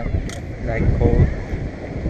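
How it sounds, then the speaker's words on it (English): Cold wind at Balboa Pier buffets the microphone with a low, rough rumble, with someone speaking briefly amid the gusts. "so cold and windy"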